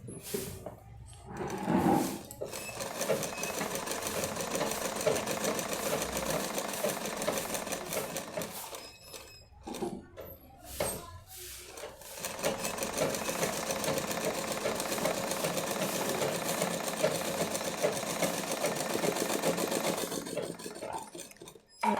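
Sewing machine stitching along folded fabric for a latkan tassel design, running in close, rapid bursts separated by short pauses and handling clicks, with a long steady run near the end.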